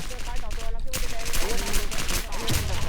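Newly adjusted gun in a video game firing in bursts of rapid shots, loud and close, mixed with game noise and a voice talking over it.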